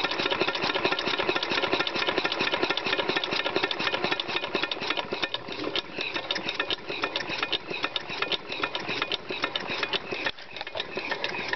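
A Briggs engine converted to run on compressed air, throttle wide open, gives a steady, dense mechanical chatter that holds close and loud throughout with no pauses.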